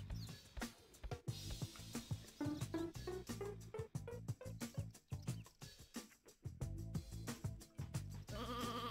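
Sheep bleats from a retro video game, repeated bleating calls over game music and chiptune-like tones, fairly loud and busy throughout.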